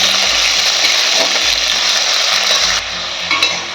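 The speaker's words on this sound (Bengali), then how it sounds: "দিয়ে ভালো করে আমি নাড়াচাড়া করে নেব কিছুক্ষণ" Carrots and beans frying in a pan are stirred with a utensil, giving a continuous scraping and rattling over a steady sizzle, close and loud, with no talking.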